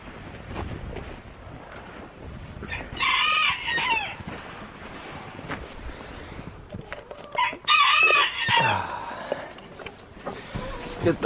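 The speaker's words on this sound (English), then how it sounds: "See some chickens in the window." Chickens in a backyard coop cluck and murmur close by while a rooster lets out two loud crows, one early and one later. A person talks quietly between the calls.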